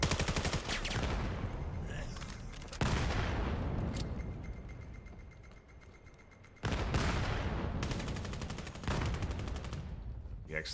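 Rifle gunfire during a competitive VR match of VAIL, with dense rapid bursts filling most of the span, a quieter stretch in the middle, then a loud resurgence of shots near the end, with game ambience beneath.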